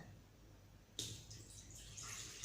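Water pours into a cooking pan for a salmon and creamy butter sauce dish, starting abruptly after quiet and continuing as a steady splashing, hissing pour close by, with no voice.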